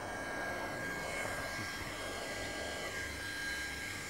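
Hot air welder blowing steadily as its nozzle heat-seals the edges of a wine press membrane during a repair, a continuous close, even airy roar with no talk.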